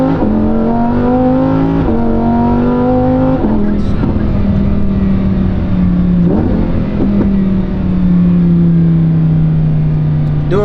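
A Lamborghini Huracan's V10 engine with a dual-clutch gearbox roars loudly and close, revving in rising pulls with quick gear changes, then settling into a steady drone, with a voice speaking over it.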